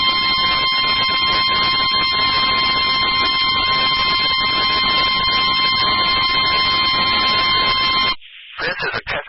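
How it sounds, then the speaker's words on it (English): A NOAA Weather Radio emergency warning alarm sounds as a loud, steady, piercing electronic tone that holds for about eight seconds, then cuts off abruptly into brief broadcast noise. "This is a test of the emergency alert system in NOAA Weather Radio's warning alarm"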